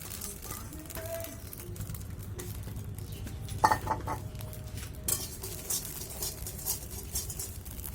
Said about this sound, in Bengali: বন্ধুরা আমি একইভাবে সমস্ত চালগুলো ভেজে নেব।